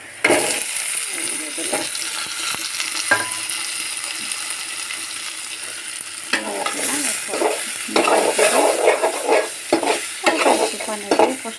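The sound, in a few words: fish and tomato frying in spice paste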